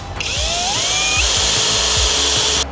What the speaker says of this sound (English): we decided to start screwing and gluing the MDF boards together from the middle out